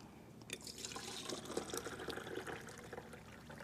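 Water runs steadily while tomatoes are washed, a soft continuous splashing and trickling with light drips, faint and unbroken with no voices.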